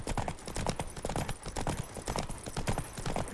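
Roach the horse in the video game Witcher 3 trots along with quick, rhythmic clip-clop hoofbeats, steady and fairly close, repeating throughout.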